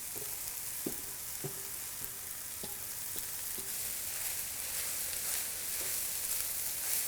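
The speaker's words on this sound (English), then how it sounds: "So we're going to add our corn and poblano mixture to our onions." A corn and poblano mixture sautés with onions and garlic in a pan, giving a steady sizzle with several light stirring taps of a utensil, no talking.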